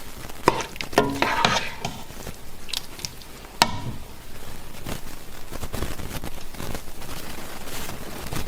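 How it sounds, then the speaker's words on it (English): Chicken vindaloo curry simmering uncovered in a pot while being stirred, with scraping spoon strokes and soft bubbling sizzle, a few louder clanks early on, steady and close with no talking. "And continue stirring as well"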